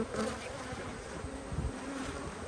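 Honey bees buzz steadily around an open hive, a dense, continuous drone of many wings close by with no voices over it.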